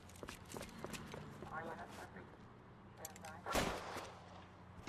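Gunfire in a radio-style crime drama set on a rooftop, with a few sharp shots and impacts amid shouting and other voices, one especially loud burst near the end over busy background sound.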